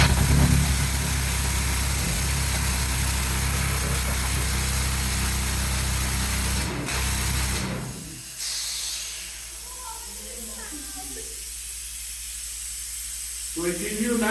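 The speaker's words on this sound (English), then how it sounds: "So this is my drill part, this is the part that hammers." A pneumatic rock drill hammers in an underground mine tunnel about 8 feet high and wide, a loud, steady, hissing roar for about eight seconds that then cuts off, followed by quieter talk.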